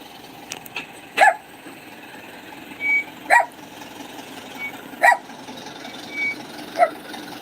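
A dog barks outdoors at a moderate distance, giving four separate sharp barks spaced about two seconds apart over a steady background hum.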